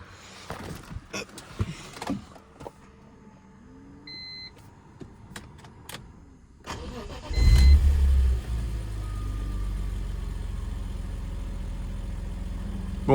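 A BMW M3 E46 pulls away: after a stretch of quiet interior clicks and a few beeps, the engine starts up loud and close with a deep rumble, then settles into a steady, sustained drone as the car drives on.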